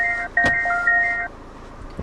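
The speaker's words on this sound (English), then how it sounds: "shifting the car into reverse activates the standard rear parking sensors" A 2014 Citroën DS4 2.0 HDi rear parking sensor chime with two alternating tones plays for about a second after shifting into reverse, accompanied by a brief click and low engine hum.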